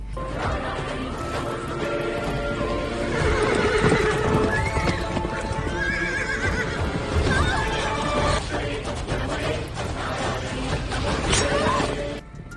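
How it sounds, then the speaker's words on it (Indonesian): A horse dragging a person in an Indian film scene, with loud neighing and whinnying over fast clip-clopping hooves and crashing impacts, set against a dense, constant soundtrack for the whole stretch. "Kriti terseret kuda"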